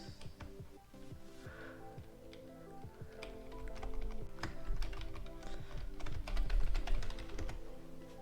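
Fast typing on a computer keyboard, close and clear, with a dense run of crisp clicks that gets busier and louder toward the end, no voices.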